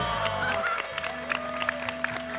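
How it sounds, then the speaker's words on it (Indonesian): Studio audience applauding on an Indonesian comedy show, a sustained patter of clapping with crowd murmur and a steady tone underneath. "tepuk tangan dulu buat Monox"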